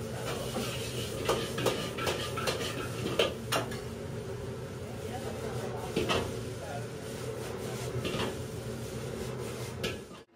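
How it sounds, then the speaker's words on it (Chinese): Crab fried rice with snow crab legs tossed in a wok in a small Osaka Chinese restaurant kitchen: steady metallic scraping and clanking of the spatula against the pan over a constant hiss, with scattered sharp knocks. "米饭经过田中熟练的翻炒，"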